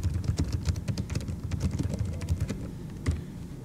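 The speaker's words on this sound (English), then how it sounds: "I'm going to type in a test response." Steady typing on a computer keyboard, a continuous patter of soft key clicks with a few sharper strokes, heard close and alone.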